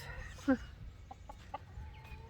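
A rooster gives one loud squawking cluck, followed by a few softer clucks over a low background hum.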